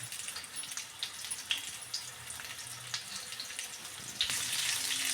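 Oil sizzles and crackles steadily as aloo stuffed capsicum fries in a pan, a soft continuous hiss that grows louder toward the end.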